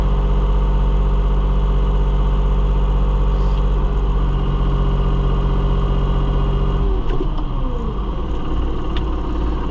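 A New Holland TN75DA tractor's diesel engine runs loud and close, holding a steady drone before the pitch shifts and the note roughens toward the end.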